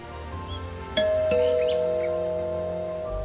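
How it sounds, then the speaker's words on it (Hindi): A two-tone ding-dong doorbell chime rings once, clear and close, its tones lingering and fading slowly. "डोरबेल सुनते ही विश्वास ने अपनी आंखें पोंछी और उठ के दरवाजा"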